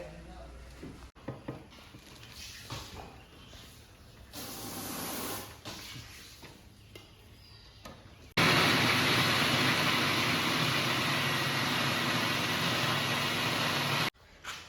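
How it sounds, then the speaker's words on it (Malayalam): Electric mixer grinder whirring as chopped banana stem is ground into paste for halwa, a loud steady motor drone that starts abruptly and runs for several seconds before cutting off, after quieter kitchen sounds and talk. "അപ്പൊ ഇത് നമുക്ക് ഇങ്ങനെ നല്ലോണം അരച്ച് പേസ്റ്റ് പരിവാക്കിയിട്ട് എടുക്കാം കേട്ടോ"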